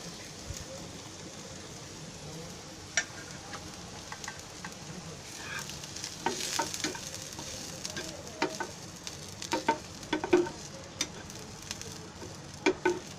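Freshly grated wet coconut crackles and sizzles softly in a pan for a stuffed bitter gourd dish, with scraping stirs and sharper pops growing busier toward the end.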